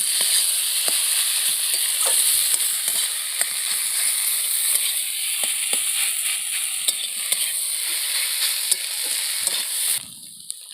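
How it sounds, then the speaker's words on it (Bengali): Fried small fish are stirred and cooked down in a spicy masala, a continuous loud sizzle broken by frequent spatula scrapes and taps, all at close range until the frying sound cuts away near the end. "দিয়ে ভালো করে নেড়ে চেড়ে কষিয়ে নেব"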